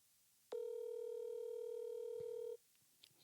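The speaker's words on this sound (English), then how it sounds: "Let me call Okoye and see what he talking about." A telephone call is placed, and a clean, steady dial tone plays for about two seconds before it stops abruptly. A few faint clicks follow in an otherwise quiet room.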